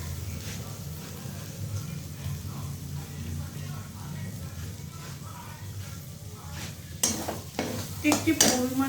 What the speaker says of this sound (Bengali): গাজর দিয়ে দিলাম, আর ক্যাপসিকামটা বিনসটা দিয়ে দিলাম।